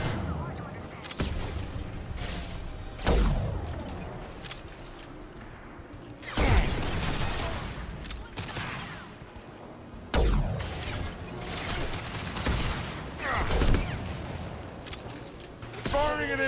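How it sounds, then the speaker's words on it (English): Impact shot weapon fire in Mass Effect 2, several heavy booming blasts spaced a few seconds apart, each a sharp loud crack with a long falling tail, among battle noise. "Firing an impact shot."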